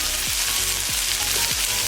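Okra fries Guyanese style in a pan, giving a constant, bright, crackling sizzle that stays close and even, with a faint low hum repeating beneath it.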